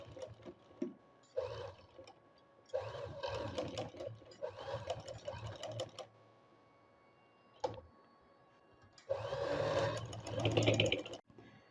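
A sewing machine stitches a zipper in short, uneven bursts of close, quiet whirring, separated by brief pauses and small clicks.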